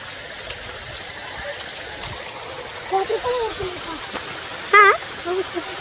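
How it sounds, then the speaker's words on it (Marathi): Water streams and rushes below a waterfall on a monsoon trek to Karnala Fort, a steady moderate wash with people talking over it near the end. "ओ, बघू शकता किती पाणी वाहत आहे."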